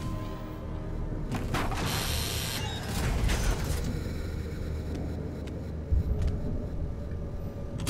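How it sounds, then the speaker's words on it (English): Lock being picked in the Saw video game, a steady run of small metallic clicks, creaks and ratcheting mechanism sounds over a low rumbling ambient bed, with a brief brighter scrape near the start. "Ooh, lockpicking."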